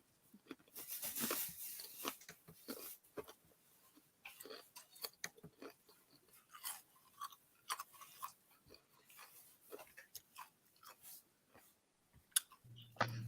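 Someone nearby crunches on ice, producing irregular crisp clicks and bites in quick bursts with short pauses between, fairly quiet and close, with no talk.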